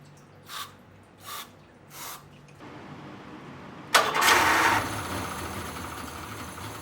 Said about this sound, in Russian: При помощи быстрого старта нам удалось запустить мотор